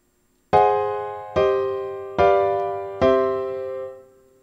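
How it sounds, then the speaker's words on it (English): Four sustained chords struck on a piano or keyboard, forming a German augmented sixth cadence in a classical style; each chord sounds alone, loud and close, evenly spaced and ringing out before the next. "you can try using a German augmented sixth chord in your cadence."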